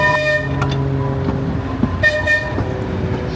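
A theme park train at Blackpool Pleasure Beach sounds its horn before departure, giving several short toots over a steady engine rumble, fairly close and loud.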